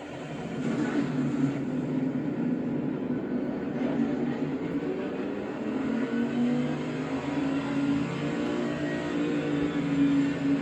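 A race car engine in Assetto Corsa Competizione drones steadily at high revs for several seconds, a continuous loud whine with slight pitch shifts and no talking.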